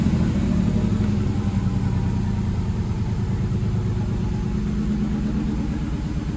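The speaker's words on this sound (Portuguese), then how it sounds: "O barulho que tá fazendo o motor, ó." A noisy Fiat car engine running after a rev, a loud steady rumbling drone close by that settles slightly toward idle over several seconds, with no talking.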